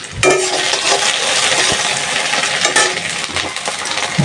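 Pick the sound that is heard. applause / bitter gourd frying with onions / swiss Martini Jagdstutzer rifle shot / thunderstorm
bitter gourd frying with onions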